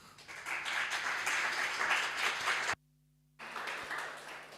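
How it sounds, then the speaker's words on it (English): An audience at the PyCon APAC 2023 conference claps in a broad, steady round of applause that breaks off briefly and then resumes. "let's give our speaker a welcoming round of applause"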